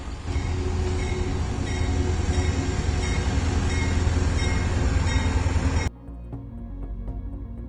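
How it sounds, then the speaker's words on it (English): A train passing very close on a railway track, a loud dense rumble and rattle of wheels and cars that cuts off abruptly, leaving a quieter low hum with no talking. "What a strange sight it was as the train passed."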